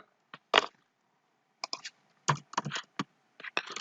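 Code being typed on a computer keyboard in short, irregular bursts of crisp key clicks separated by quiet pauses, close up and alone.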